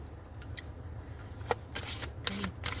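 An oracle deck from a Moonology set being shuffled by hand, a steady soft riffling and rubbing of cards with a few sharper flicks, close up and fairly quiet, with no talking.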